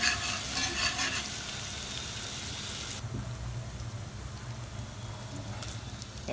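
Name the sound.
frying crushed ginger garlic paste in pan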